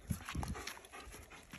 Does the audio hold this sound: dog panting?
yes